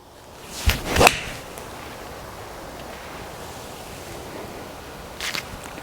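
A quick swish followed by a single loud, sharp crack of a golf iron, a PING G400 or TaylorMade M2, hitting a ball outdoors, then quiet breezy air with a faint thud near the end.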